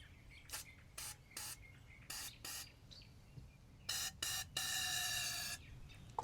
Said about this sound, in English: We're going to spray a little of this fogging oil down into the cylinder